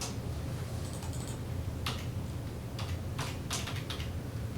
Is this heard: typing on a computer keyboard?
yes